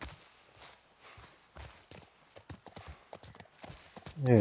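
Horse hooves clip-clopping at a walking pace in the video game The Last of Us Part I, a steady, close series of hoof falls with a brief louder rumble at the end.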